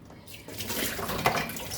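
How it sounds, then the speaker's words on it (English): Water poured into a grinder jar over spices for grinding a fine paste in a home kitchen, a steady splashing and trickling pour lasting under two seconds, close and moderately loud with no talk. "So now we'll add water to this and grind this to fine paste."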